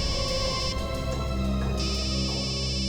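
A telephone ringtone plays steadily over a dense, continuous musical background, with repeating bright electronic tones throughout and no speech.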